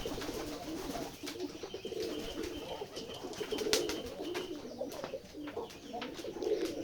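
Pigeons coo repeatedly inside a loft, a soft, overlapping rolling murmur with occasional sharper clicks and flutters nearby.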